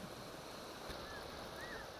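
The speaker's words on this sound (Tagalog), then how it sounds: "Matindi ang ragasa ng tubig sa ilog sa Gwangju, South Korea, resulta ng patuloy na buhos ng ulan" Floodwater in a river in Gwangju, South Korea, swollen by heavy continuous rain, makes a steady broadband roar of rushing water that holds at an even loudness throughout, with no voices.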